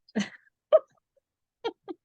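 A person sneezes indoors, a short sharp burst followed by a few brief breathy or vocal sounds separated by silence.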